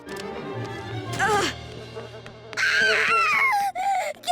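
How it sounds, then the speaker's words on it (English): A cartoon bee buzzes in wavering, whining bursts close by, rising and falling in pitch, with stretches of character voices in between. "This bee sure thinks I'm sweet."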